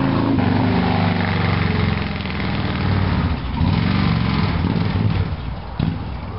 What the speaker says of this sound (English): I hate fucking motorbikes.